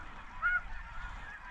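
Ross's geese honking during a waterfowl hunt: a flock's overlapping high nasal calls with one clearer honk standing out, moderately near over a steady outdoor background, no speech.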